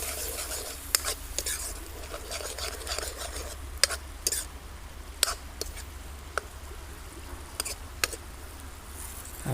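Fish and vegetable curry stirred in a pan, a spoon scraping and clinking against the metal at irregular intervals over a low steady simmer, close and fairly quiet.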